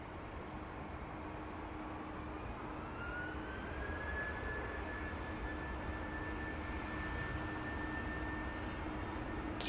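A United airliner approaching to land at Sydney Airport, a steady distant engine roar with a faint rising whine, constant and unbroken, no voices.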